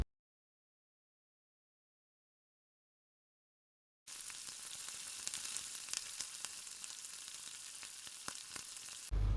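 Vegetables with chilli and soy sauce stir-frying for egg fried rice make a bright hiss and crackle that starts after a silent opening and carries on evenly, with a few sharp ticks and no voices.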